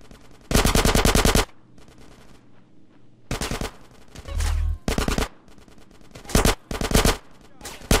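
Automatic weapons fire in a shootout in GTA San Andreas, during a mission to reunite the families, comes in loud, sharp bursts of a second or so. Quieter stretches and a low rumble fall between them.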